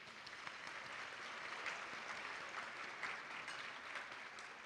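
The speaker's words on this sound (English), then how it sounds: "Let's actually give them a quick round of applause." Applause from a luncheon audience, a dense, steady wash of clapping from a large crowd that goes on throughout, distant and fairly faint.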